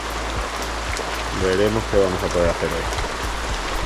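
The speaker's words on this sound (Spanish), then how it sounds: "Hoy lleva lloviendo toda la noche aquí en Anda." Steady rain falls overnight in Anda, Bohol, a continuous close hiss of drops while a person speaks briefly over it.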